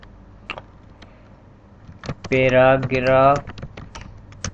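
Sparse, light key clicks from a computer keyboard as HTML code is typed, spaced irregularly over a quiet background, with a short stretch of a voice in the middle.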